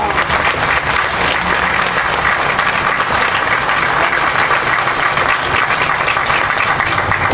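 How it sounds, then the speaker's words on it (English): Loud, dense applause from a large crowd, a continuous roar of clapping held at full strength without a break. "This is worthy of an applause before I go on"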